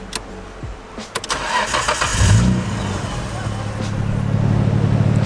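An old Japanese car's engine cranks and fires up without the clutch pressed, a short starter whir followed by the engine catching and settling into a steady, loud idle close by.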